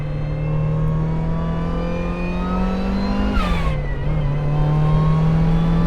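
Supercharged NB Mazda Miata engine revving on a track, a loud continuous close drone with a brief rise and dip in pitch midway, then holding steady.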